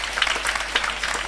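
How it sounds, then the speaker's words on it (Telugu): A crowd of parents and guests applauds children's performances at a children's home festival, with dense, steady clapping throughout and a few sharper bursts. "పిల్లలందరికీ ఒకసారి క్లాప్స్ ఇద్దామా?"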